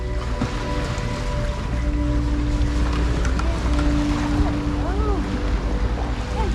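A boat cruises slowly on a single engine, its steady low drone running under wind buffeting the microphone and the wash of sea water, with faint chirping calls from nearby marine animals.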